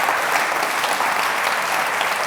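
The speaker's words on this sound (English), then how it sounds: "So another round of applause for Sue there." An audience at a community awards ceremony applauds an award nominee with steady, dense clapping that stays loud and even from start to finish.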